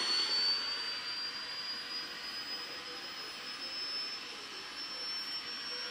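A photoflash unit charging, picked up on a VLF radio receiver as a faint steady hiss with a thin high whine that slowly rises in pitch, continuous throughout with no talk.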